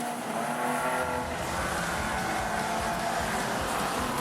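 Fender Bender race cars at Rockhampton Speedway roaring across the finish line, loud engines close by with a hint of tire squeal, a steady dense racing din throughout.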